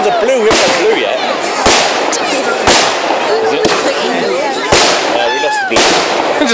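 Blue fireworks burst overhead at a public display, with sharp loud cracks repeating about once a second amid crackling, while people nearby talk and exclaim.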